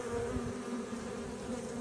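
Honeybees buzz steadily at the hive entrance in spring as foragers return with pollen on their legs, a continuous close drone with no talking.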